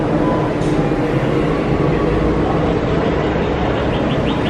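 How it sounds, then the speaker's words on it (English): Disney monorail train gliding toward EPCOT, a steady loud rumble and rushing wind noise throughout, with no talk over it. "We have one monorail there, one monorail there, and one monorail there."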